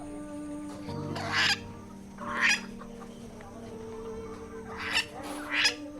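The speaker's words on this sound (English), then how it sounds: "These two parrots are white-fronted Amazons" White-fronted Amazon parrots give four loud, raspy squawking calls spaced a second or so apart, over a steady low background hum.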